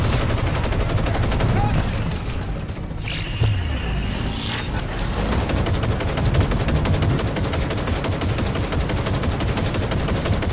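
Sustained automatic gunfire in Cyberpunk 2077: Phantom Liberty, a dense, loud, rapid chatter of shots running almost the whole time, briefly thinning in the middle, with a voice shouting faintly beneath it.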